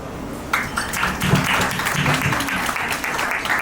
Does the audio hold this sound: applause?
yes